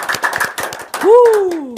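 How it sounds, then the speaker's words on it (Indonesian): Studio audience on a talk podcast set breaks into a short burst of clapping that runs for about a second, followed by a rising whistle-like tone, with voices mixed in. "Boleh minta tepuk tangannya."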